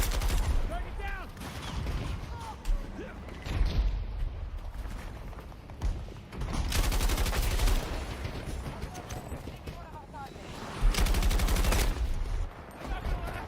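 Sharp NTW-50 sniper rifle shots ring out in Battlefield 2042, with a few loud broadband cracks standing out over a busy bed of distant gunfire and battle noise, and faint voices underneath.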